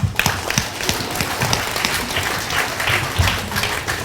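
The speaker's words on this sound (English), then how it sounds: "you can give them a round of applause" Clapping from a school audience greets students at an elementary school assembly, a steady round of applause with distinct sharp claps standing out near the front.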